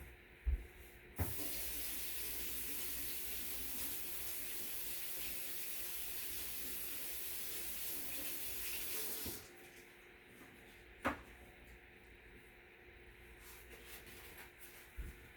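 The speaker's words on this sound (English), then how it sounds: "and then just give this a rinse" A water tap runs steadily into a sink for several seconds while something is rinsed, a continuous hissing stream with a few knocks around it, then the flow stops and faint handling sounds follow.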